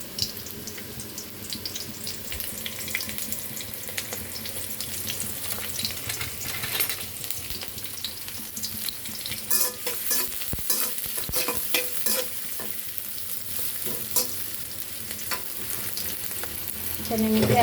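Onions dropped into a small amount of hot oil for a prawn and Malabar spinach dish, a quiet, steady sizzle with spatula stirring and scraping, plus occasional clatter near the end.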